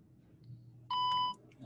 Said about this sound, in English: Now there's a beep. That beep indicates that it's now on.